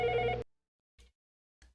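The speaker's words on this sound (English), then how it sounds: "Answering an incoming call." A Mitel 5212 IP desk telephone gives one short, bright electronic ring for an incoming call, followed by two faint clicks in an otherwise silent room.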